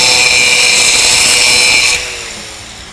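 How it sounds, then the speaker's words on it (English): Loud, steady high-pitched grinding of an Hdii 60-grit diamond-impregnated steel plate rounding off a granite corner edge, continuous and close, dropping in level near the end as the grinding eases off. "If you want to grind that corner, use the side of the Hdii,"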